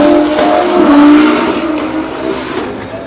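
Drag racing car engines rumble and rev loudly nearby at a drag racing event, with a brief high whine and a roaring crowd-like wash of noise.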